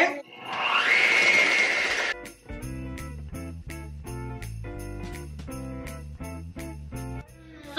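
Cookie dough of flour, baking soda and egg churned by a loud electric mixer for about two seconds, then a steady rhythmic pulsing of music-like tones, with no talking.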